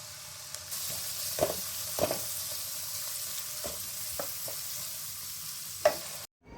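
Onions frying in a pan as a steady sizzling hiss, close and even, with a few sharp clinks of a stirring utensil scattered through and a sudden cut at the end.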